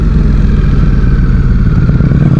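A Ducati Streetfighter V4 motorcycle with its engine running during its break-in period, heard close and loud as a steady, rough low-pitched rumble with a fast pulsing throb and no talking.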